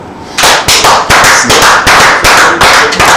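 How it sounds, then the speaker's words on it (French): Audience applause for a song launch in a TV studio, close and very loud, breaking up into harsh, distorted bursts in a rough repeating rhythm. "On peut l'applaudir, hein?"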